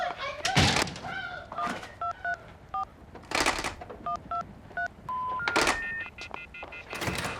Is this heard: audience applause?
no